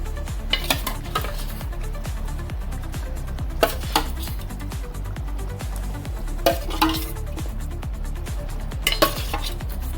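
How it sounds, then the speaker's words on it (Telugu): Fish pieces dropped into simmering curry in a pot on the stove, with scraping utensil clinks and a few sharp metallic knocks against the pot over a low bubbling base. "చేప ముక్కలు వేస్తున్నాను."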